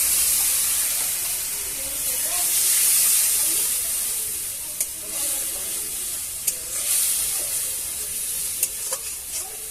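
Spice masala of coriander and turmeric powder sizzling in a frying pan after water is added, a loud, continuous hiss and fizz that swells and eases, with a few sharp crackles and scrapes near the end.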